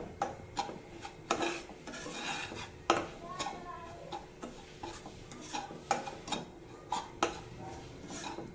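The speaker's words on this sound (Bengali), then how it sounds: "হালকা করে সুজিটা আমি ভেজে নিয়েছি ঘি দিয়ে" Semolina is lightly fried in ghee in a pan and stirred, making repeated scraping and rubbing strokes with sharp clinks of the spoon against the metal, in an uneven rhythm with no talk.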